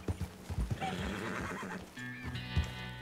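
A horse in the Western video game Red Dead Redemption 2 gives a loud, drawn-out whinny, with hooves clip-clopping and steady in-game ambience and music underneath.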